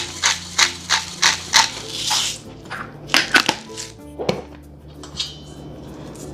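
Dry banana muffin ingredients with spices and salt are shaken through a metal sieve: a run of sharp, rhythmic rattling taps, then a pause and a few more scattered knocks, close and fairly loud with no talking.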